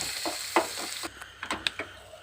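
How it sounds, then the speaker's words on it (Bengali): Jackfruit seeds frying with turmeric and salt, stirred in a pan: a faint sizzle beneath a handful of quick scraping and tapping strokes of the spatula, close and fairly quiet over about two seconds, no voices. "এবার এর মধ্যে ভালোভাবে কষিয়ে নেড়ে চেড়ে ভালোভাবে মাখিয়ে নিচ্ছি"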